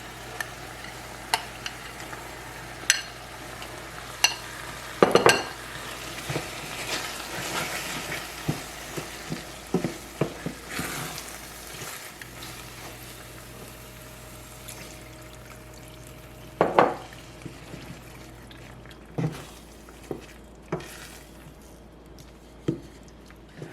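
Butternut squash risotto is stirred in a pan on medium-low heat, with repeated soft scrapes and knocks of the spoon over a faint simmer, quiet and close, no one talking.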